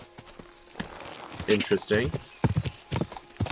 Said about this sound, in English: I should probably just get on my horse.